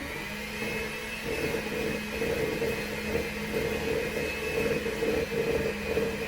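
An electric hand mixer runs continuously through soft chocolate chip cookie dough, a steady close motor whine with a slight wavering as the beaters move through the bowl. No voices are present.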